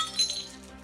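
In an animated cartoon, a framed painting falls and its glass breaks with a brief, light clink and tinkle that fades quickly.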